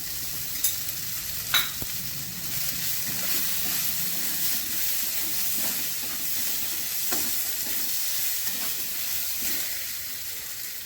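Ground cumin, coriander and chilli powder fry in a pan for an egg curry with potato and cauliflower. There is a steady, close sizzle and hiss throughout, with a few light clinks of stirring.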